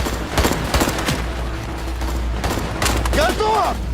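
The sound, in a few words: gunfire during combat in Central African Republic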